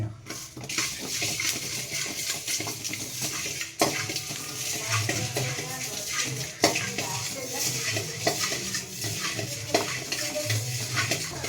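Four tablespoons of coriander seeds dry roasted in a pan over low heat, with a spoon scraping and stirring continuously and seeds rustling and clinking against the metal, close and steady.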